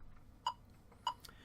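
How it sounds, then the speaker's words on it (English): Metronome set to 100 beats per minute giving two crisp, evenly spaced clicks, faint and isolated against a low background hiss. "So if we put our metronome on at 100 beats a minute"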